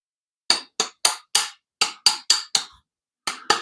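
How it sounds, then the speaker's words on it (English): A hammer tapping tubes into a fabricated hemi log exhaust manifold for a Plymouth Duster build, about ten sharp metallic strikes in an uneven rhythm with a pause before the last two, close and loud. "I'll tap them in there with a hammer."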